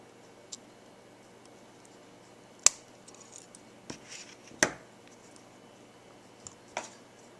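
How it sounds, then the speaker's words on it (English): A few sharp, quiet snips and clicks of scissors clipping off a pin from a Ferrari 348 model kit arrive singly against near silence, spaced a second or two apart. "you take a pair of scissors and clip off a pin"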